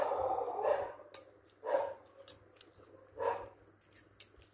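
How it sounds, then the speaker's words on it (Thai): A dog barks in three separate short bursts spaced about a second apart, fairly distant and faint against a quiet background, with no talk. "น้องหมาเห่า"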